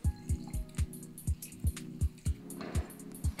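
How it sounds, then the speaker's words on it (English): Lime juice squeezed into a Vietnamese noodle salad dressing falls in a steady series of about a dozen evenly spaced drips and splashes, close and clear with no talk. "And a squeeze of lime for some tartness."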